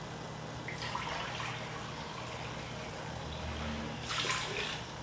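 Water poured over lentils in a pot for soup, a continuous close rushing stream with a brief louder surge near the end, no talking.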